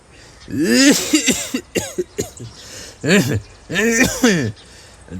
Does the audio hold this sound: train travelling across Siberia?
no